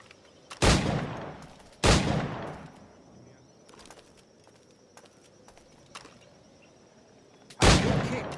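Flintlock gunfire in the video game Assassin's Creed IV Black Flag: three loud, sharp reports spaced several seconds apart, with quieter footsteps and clatter in between.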